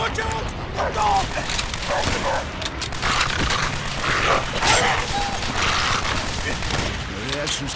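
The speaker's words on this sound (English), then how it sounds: "Watch out! The dog!" A dog barks and snarls as it attacks in Call of Duty: World at War, with sharp, repeated barks mixed into bursts of rapid gunfire and shouting voices.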